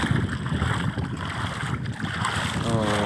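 Strong sea wind and waves make a steady, dense roar that buffets the microphone without a break for the whole stretch.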